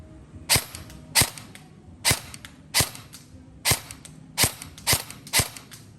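An E&C HK416A5 electric airsoft BB gun fires nine sharp, crisp single shots at fairly steady intervals, loud and close against a quiet outdoor background.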